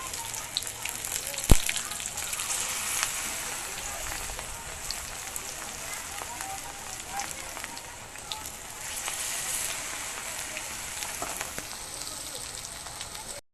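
Banana flower (mocha) pieces fry in very hot oil with a dense, continuous crackle and sizzle, loud and close throughout, with one sharp pop near the start.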